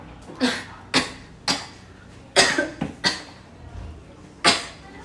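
Someone coughs repeatedly at close range, six or seven short, sharp coughs spaced unevenly with brief pauses between them.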